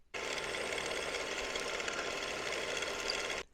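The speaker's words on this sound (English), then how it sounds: "I've got the top cap set up in the vise in the milling machine" A milling machine cuts across a Suzuki GSX 750 fork top cap clamped in a vise, making a steady, loud, buzzing whine that starts and stops abruptly after about three seconds, with no voices.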